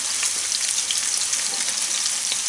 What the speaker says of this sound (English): we've put it on with the lard melting, smelling lovely